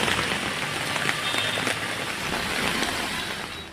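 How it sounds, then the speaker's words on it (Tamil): Heavy morning rain falls across Delhi streets, a dense, steady hiss of drops drumming on surfaces with no pauses and no voices. "தலைநகர் டெல்லியின் பல்வேறு இடங்களில் இன்று காலை கனமழை பெய்தது."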